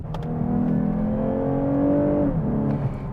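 The engine of a 2023 Lexus IS 350 compact sport sedan pulls through a corner, a smooth rising drone that swells, then dips as the throttle eases, heard close with no talk.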